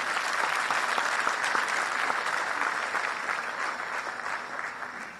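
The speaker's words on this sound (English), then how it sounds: "Let's give a big applause for Gwen." An indoor audience at a Social Business Day event claps in a dense, sustained round of applause that holds steady and slowly tapers off at the end.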